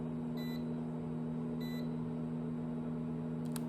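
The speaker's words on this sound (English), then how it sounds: "Now it has beeped, signifying that it is done and ready to go." DEVINC milk frother and steamer signaling it has finished, with two short electronic beeps about a second apart over a low steady hum, followed by a faint click near the end.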